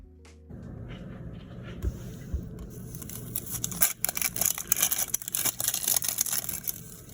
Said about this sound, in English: That noise was me unwrapping the outer part of an onion.